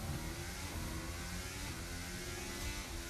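A Formula 1 race car engine in the F1 Braking Point 2 video game, heard as the car pulls out of the pit lane at Suzuka: a loud, steady, high-revving roar that stays constant and close with no talk over it.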